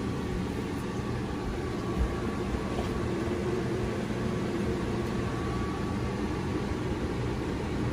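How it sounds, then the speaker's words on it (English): A microwave oven running inside an RV gives a steady, loud broadband hum and whir with a faint tonal drone, unchanging throughout, with no voices. "Now, the microwave just kicked off."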